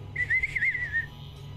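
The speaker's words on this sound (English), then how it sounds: "I'm whistling." A person whistles a short, wavering tune for about a second, up close and alone with no talk, over a low background hum that continues after the whistle stops.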